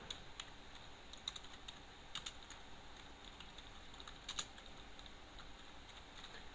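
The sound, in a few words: typing commands on a computer keyboard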